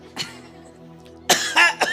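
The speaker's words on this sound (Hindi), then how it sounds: "Immediately you had a cough." Several short, sharp coughs sound up close: a single light cough, a pause, then three harsh coughs in quick succession.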